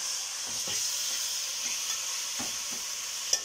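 Spices are stir-fried in a pan for kabsa, with a steady close sizzle and hiss under soft, irregular scraping strokes of a utensil. No one talks.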